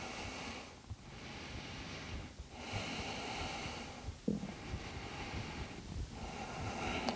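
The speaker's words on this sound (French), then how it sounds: "Encore quelques respirations" Slow, steady breathing during a yoga balance pose, quiet airy inhales and exhales at roughly even intervals under faint room noise, with no talking.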